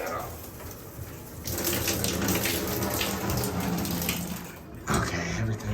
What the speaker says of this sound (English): the shower works.